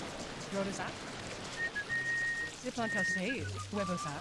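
A game character whistles a melody in Ghost Master, short pitched phrases that rise and fall over a soft ambient bed, with voices talking alongside.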